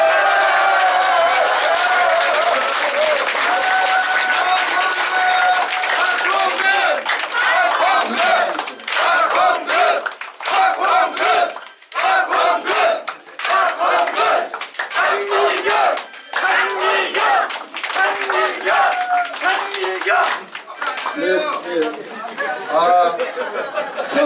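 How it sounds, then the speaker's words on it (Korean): Loud crowd applause with cheering at a Democratic Party celebration of a lawmaker's re-election in Jungnang, Seoul, sustained clapping and shouts throughout, with chatter and broken bursts toward the end. "큰 박수를 보내주시기 바랍니다"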